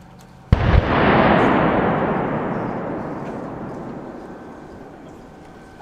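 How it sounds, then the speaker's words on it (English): A single heavy blast from a military live firing demonstration at the Grand Quadriga 2024 exercise hits sharply, then rolls into a long, loud rumbling roar that slowly fades over several seconds. "this was the live firing demonstration"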